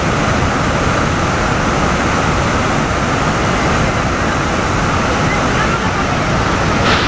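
Lodh waterfall in the rainy season with its level swollen, a steady, dense roar of rushing water that fills the whole stretch without a break, loud and close like heavy surf.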